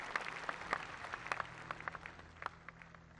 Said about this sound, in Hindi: जोरदार तालियों से इनकी हौसला अफजाई करें।